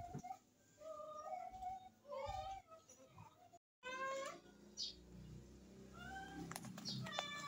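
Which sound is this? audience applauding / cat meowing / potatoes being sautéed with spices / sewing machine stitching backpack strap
cat meowing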